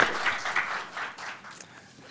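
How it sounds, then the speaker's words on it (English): Audience applause after a talk at a dementia care centre showcase, a brief burst of many hands clapping that fades over about two seconds. "a round of applause to Krista for giving us such a nice tour of apathy"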